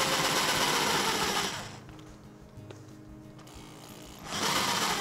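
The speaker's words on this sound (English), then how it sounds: "It's important to go nice and slow when you're using the jigsaw." A jigsaw cuts slowly through luxury vinyl plank, a rapid buzzing chatter at the start and end with a quieter lull in the middle, close and alone with no talk.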